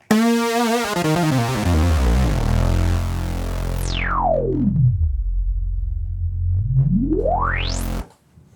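A buzzy analog synthesizer lead tone swooping down from high to low, holding a low drone, then sweeping sharply back up before cutting off.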